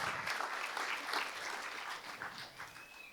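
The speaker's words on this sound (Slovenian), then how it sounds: "Zdaj pa aplavz za naše plezalce iz alpinističnega kluba Ravne." A crowd at a municipal sports awards evening in Ravne na Koroškem applauds climbers from the local alpine club, producing a soft, dense patter of many hands, somewhat distant and quiet, holding steady before easing slightly toward the end.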